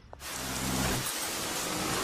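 Heavy rain pours down in a steady, dense hiss that swells in quickly and then holds evenly, loud and unbroken.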